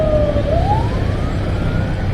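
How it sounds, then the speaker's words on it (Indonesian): A loud ambulance siren wailing close by, its pitch sweeping up and holding over a steady rumble of street traffic in Bandung, Indonesia. "ada ambulans kita mengalah"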